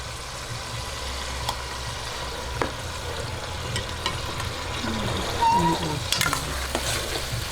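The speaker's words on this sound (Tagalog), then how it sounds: "gisa-gisahin lang po natin hanggang mag-golden brown itong ating meat at pork" Ground beef and pork sauté in a pan for Filipino sweet spaghetti, with a steady close sizzle and intermittent scraping and tapping from a stirring utensil and no talk.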